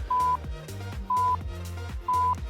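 A workout interval timer sounds three evenly spaced, loud beeps about a second apart over a bodyweight calisthenics session, with background music running underneath.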